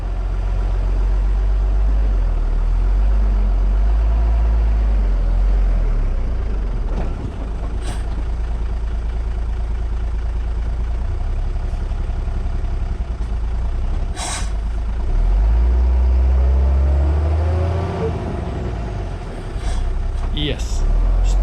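A heavy truck engine roars and strains continuously while stuck in mud in Botswana's Okavango Delta, with brief hissing bursts like air brakes, loud and close throughout.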